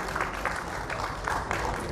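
Applause from a meeting audience, a steady dense clatter of many hands clapping that holds evenly through the whole stretch with no voices over it.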